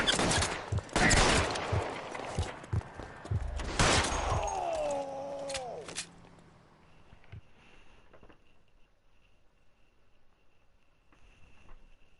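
Gunfire in a video game: a rapid burst of loud, sharp gunshots in the first six seconds with a whistling tonal effect mid-burst, then falling to faint ambience with a few scattered distant cracks.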